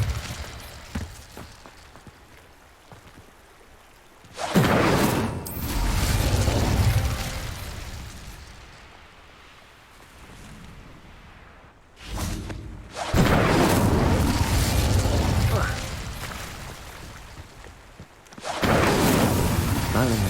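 Incendio fire spell bursting in Hogwarts Legacy: two loud, roaring blasts of flame, each a few seconds long, separated by quieter game ambience and a brief whoosh.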